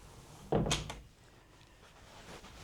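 A hotel room door in Thailand closing with one sharp thump and a quick rattle, followed by quiet room ambience.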